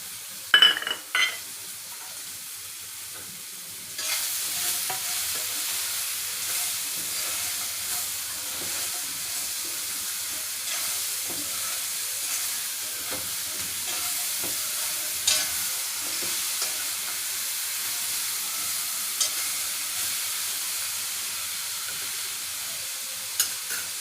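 Ridge gourd pieces with salt and tamarind cook in a pan, giving a steady sizzle and frying hiss that starts abruptly after a few quiet seconds. Scattered stirring clicks sound over it, close by, with no talking.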